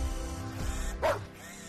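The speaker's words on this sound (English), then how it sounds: "Hazel followed Brutus and barked at him again" A dog barks in a single sharp bark after a low growl, fairly close, over a low background rumble with no talk.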